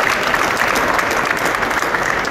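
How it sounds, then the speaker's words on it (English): Dense, steady audience applause at a Lexus press conference at the SEMA Show, honouring builder Clark Ishihara of VIP Auto Salon; a continuous wash of many hands clapping, loud and even throughout. "Let's give some applause to Clark for getting this thing done."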